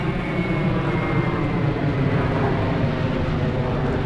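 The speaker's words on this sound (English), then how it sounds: "Airplanes. It's a problem being near an airport." Airplanes pass overhead near an airport, a loud, steady, broad jet roar filling the whole stretch without pause and with no talk over it.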